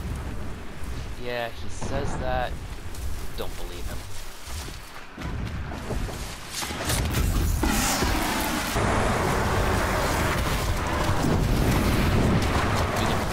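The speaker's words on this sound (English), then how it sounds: "Now... explosions in the distance." Distant explosions rumble as a low, broad roar in Horizon Zero Dawn, swelling louder in the second half, while someone talks over the game.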